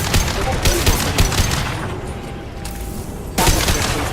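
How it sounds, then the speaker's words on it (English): Dense, heavy gunfire rattles through a Mass Effect 2 battle, with constant overlapping shots and booms. The firing briefly thins out, then surges loud again near the end. "Taking heavy fire."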